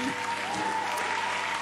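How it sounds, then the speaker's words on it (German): Audience clapping at a youth event, dense steady applause filling the room at even loudness for a short stretch, with a faint whistle-like tone running through it. "gib noch mal einen fetten Applaus"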